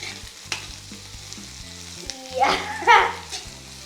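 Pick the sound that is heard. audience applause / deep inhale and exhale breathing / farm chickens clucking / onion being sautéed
onion being sautéed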